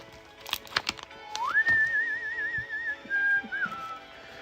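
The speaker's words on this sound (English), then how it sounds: "I'm gonna stop whistling, guys. I'm whistling too much." A person whistles a wavering, warbling tune after a few sharp knocks and clicks, the melody sliding up and trilling before fading off.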